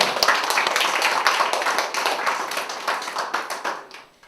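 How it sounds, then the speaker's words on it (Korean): A church congregation claps together in a dense, lively burst of many hands that gradually thins and fades out over a few seconds. "박수 치며 아멘."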